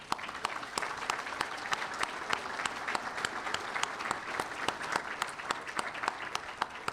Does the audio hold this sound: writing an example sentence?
no